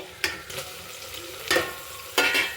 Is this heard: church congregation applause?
no